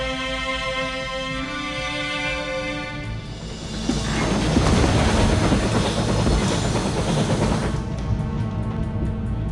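Train running on rails in The Last Express, a steady rolling rumble with rhythmic track noise that swells louder partway through and holds, no voices.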